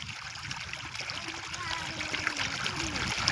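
Irrigation water running through a field of fenugreek plants, a steady low trickling and splashing flow heard close by throughout, with faint bird chirps above and no speech.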